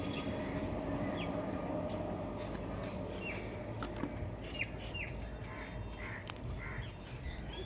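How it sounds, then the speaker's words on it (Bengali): A train passes along tracks beside a roadside, a steady rumbling roar filling the whole stretch, with crows cawing and squawking intermittently over it. "ওই জন্য ধারেগুলো ট্রেন যাচ্ছে, আওয়াজ হচ্ছে।"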